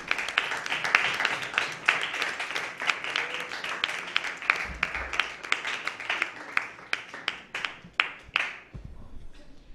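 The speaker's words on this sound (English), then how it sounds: "a round of applause for all of you" Applause from debate club delegates in a school debate setting, a moderately quiet room of clapping hands that thins out toward the end into scattered individual claps.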